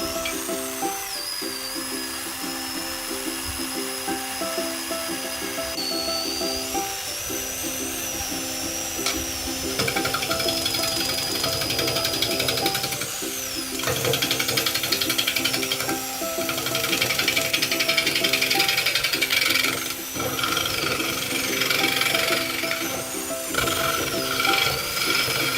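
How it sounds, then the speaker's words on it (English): Wood spins on a large red wood lathe while a spindle gouge cuts it, giving a steady whirring hum under shifting scraping and hissing tones that swell and ease as the tool moves, continuous and close for the whole stretch. "the wood lathe is a simple mechanism which can generate a variety of forms"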